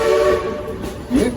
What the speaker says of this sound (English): give me 3 toots on that whistle.